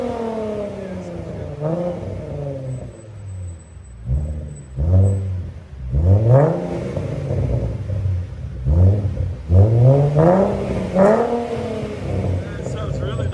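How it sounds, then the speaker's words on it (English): A 2014 Ford Mustang 3.7L V6 with a Magnaflow Competition Series cat-back exhaust revs repeatedly, sharp rising blips dropping back to a rumbling idle between them, loud and close, with people talking over parts of it. "That sounds really nice. For a V6, that's not bad at all."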